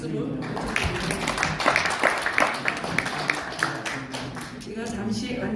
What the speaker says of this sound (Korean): 여러분 큰 박수를 부탁드립니다